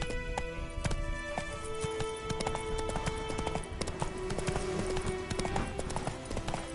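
Roach the horse galloping in The Witcher 3, with a steady, rapid clip-clop of hooves running throughout, loud and close, over a bed of game music and ambience.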